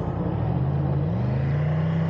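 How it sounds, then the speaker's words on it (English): Electric lorry passing close on the road, a brief steady rumble with a rising hum heard from nearby and loud, with no talk. "First electric lorry I've seen."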